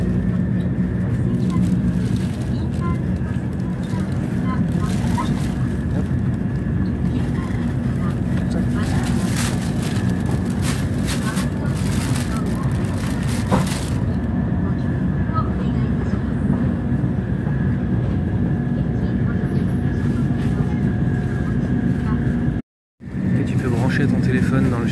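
Shinkansen bullet train cabin ride noise on the run toward Tokyo: a steady low rumble and rush of air with rail hum that continues throughout, and brief clatter bursts partway through before a short dropout near the end.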